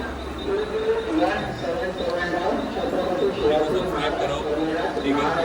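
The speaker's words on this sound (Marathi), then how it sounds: "ट्रेन चालू झाली गाईज, ट्रेन चालू झाली" Steady rumble of a passenger train carriage starting to move out of Thane, under busy chatter from many nearby voices, with a constant low drone throughout.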